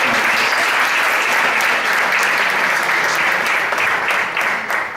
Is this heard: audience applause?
yes